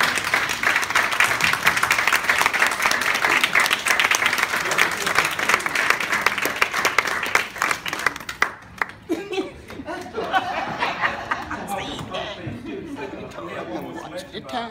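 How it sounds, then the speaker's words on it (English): Loud, sustained standing applause at a community gathering welcoming a man introduced by his nephew, mixed with cheering, laughter and chatter; the clapping fades about halfway through, leaving scattered voices and murmuring. "So I want you all to stand up and give a round welcome of applause for my uncle, Cleveland Holmes."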